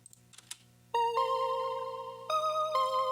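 A Magic River synth preset in a house track plays sustained, bright harmonic chord tones that step to new pitches twice, after a few faint soft clicks at the start.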